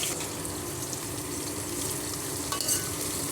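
Onions frying in a pan until golden brown for veg pulao give off a loud, steady sizzle, with stirring and scraping throughout.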